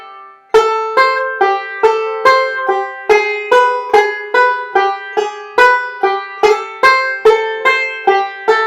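Banjo picking the repeated section of Kansas City Railroad Blues, a steady run of about twenty crisp plucked notes in even rhythm, each with a bright twangy attack and quick decay, played close and alone with no talking.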